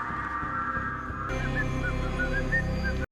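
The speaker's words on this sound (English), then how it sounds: "We even get a bit of that same whistling from Negan" A melodic whistled tune drifts in over a low background hum, several short rising notes in sequence at moderate volume.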